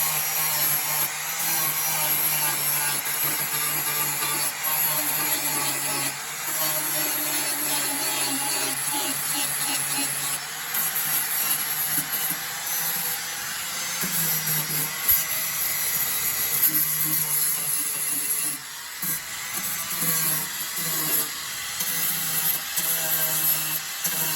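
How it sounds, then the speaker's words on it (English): A power tool grinds paint off the floor panel of a 1968 Firebird convertible to prepare for welding a patch. The whine is steady and continuous, with small shifts in pitch and load as it works across the metal, and no talking over it. "I'm going down clean the paint back there where the outline is at so that I can weld my little patch over the floor panel"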